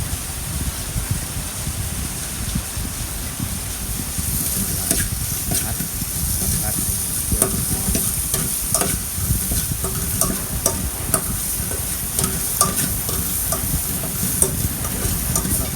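Aromatics and oil sizzle in a hot pan while a spicy Thai-Lao beef stew is stir-fried: a loud, continuous hissing sizzle, nearby, with scattered sharp scrapes and clinks of the utensil.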